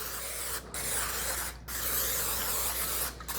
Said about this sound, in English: I'm going to go ahead and lightly spray my pan with a little Pam